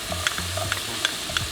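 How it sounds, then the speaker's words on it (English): Onions sautéing in a pan of olive oil and melted butter, giving a steady low sizzle with a few sharp clicks and scrapes from stirring spread evenly through the moment. "Once the butter is fully melted, then just add the onions"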